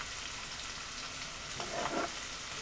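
Onions and curry leaves frying in oil, an even close hiss of sizzling with a brief stir or scrape near the end, no voices.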